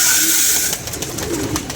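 Pigeons coo softly while pecking at scattered feed, a breathy hiss and faint rustle running underneath, close and fairly quiet for a couple of seconds.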